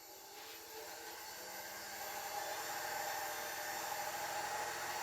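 An ash bowl spins on a wood lathe as it speeds up to around 800 rpm, giving a steady, close, broadband whirring hum that swells slightly in loudness and holds on, with no talking.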